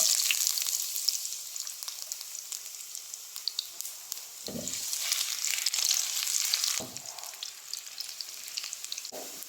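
Ginger sautéing in a frying pan, a steady close sizzle and crackle throughout, with a few dull knocks from stirring and no voices.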